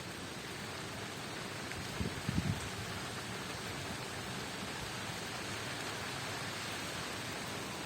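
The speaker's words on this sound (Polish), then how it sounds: "Pada, co?" Steady rain falls continuously under a tree, a soft even hiss throughout with a few faint knocks partway through; no one speaks.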